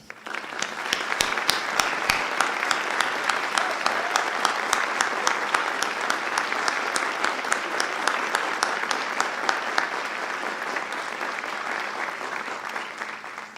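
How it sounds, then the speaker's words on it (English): Sustained audience applause for retiring teachers at an end-of-year teacher appreciation celebration, a dense steady clapping from a large crowd lasting throughout, with a few sharp individual claps standing out near the start. "give you another warm round of applause"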